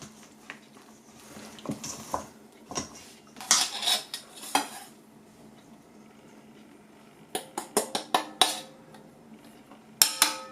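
Bread dough of flour and salt mixed with a spatula in a bowl, with intermittent clinks and scrapes of the utensil in bursts separated by quieter pauses.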